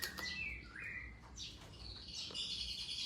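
A white-rumped shama (murai batu), a caged songbird from Lampung, gives several short, bright chirps and whistled phrases close by over a steady low background hum.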